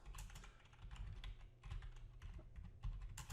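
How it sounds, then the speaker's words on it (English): Steady, rapid keyboard typing with clustered keystrokes and brief pauses, fairly close and moderately loud, with no voices. "I don't know what's with my typing today."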